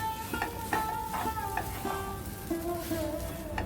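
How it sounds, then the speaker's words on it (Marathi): Ginger, garlic, chili and coriander paste sautéing in a pan, with a steady sizzle under repeated scraping and stirring of a utensil against the pan, close and fairly loud. "आलं, लसूण, मिरची, कोथिंबीरची पण पेस्ट टाकून घेऊया. ती पण चांगली परतून घेऊया"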